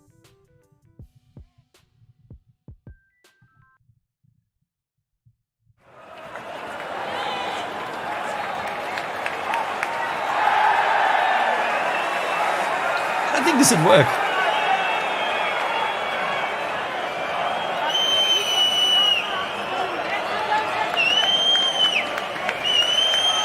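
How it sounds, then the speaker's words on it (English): Football stadium crowd sound effect from Pond 5: after a few seconds of near silence, a broad crowd roar swells in and holds steady, with cheering and whistles on top, and someone speaks briefly near the start. "football stadium sound effect"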